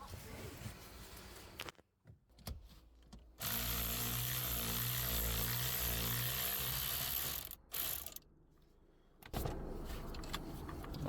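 Bolts being undone on a Ford ST180 steering column, a ratchet clicking in bursts with a long steady stretch of rapid ratcheting in the middle, close by, with brief pauses and no talk.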